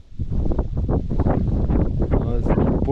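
Strong wind buffets the microphone during winter spinning fishing on a frozen lake, a loud, close, continuous roar of gusts.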